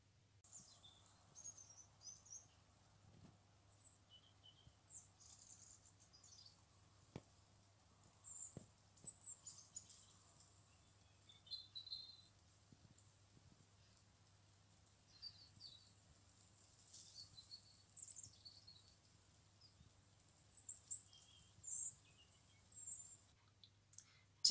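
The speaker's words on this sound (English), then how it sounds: "you can hear the birds singing" Faint, distant birdsong in a snowy garden, scattered high chirps and short trills over a steady low hum, with occasional soft clicks and no talking.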